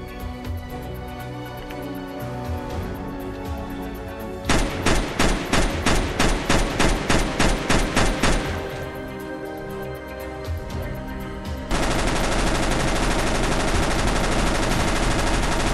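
A PP-Bizon submachine gun firing in Counter-Strike: Global Offensive, with a rapid burst of about a dozen evenly spaced, loud shots followed by a sustained, dense stream of automatic fire that ends the clip, with no talking.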